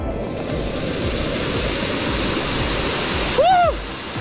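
Piduan Falls, a waterfall reached on a nature trip, roars in a loud, constant rushing wash close by. Near the end a brief voice rises over the water.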